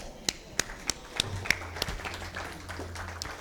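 A small audience gives a sparse round of applause, a few distinct evenly spaced claps at close range that thin out, with faint talk underneath.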